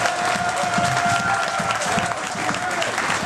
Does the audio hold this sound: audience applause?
yes